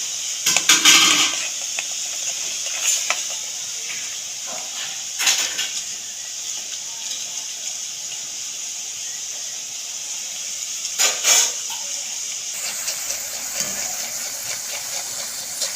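Grated potatoes frying in hot oil in a pan, a steady soft hiss running throughout with a few brief louder bursts of sizzle and stirring scrapes.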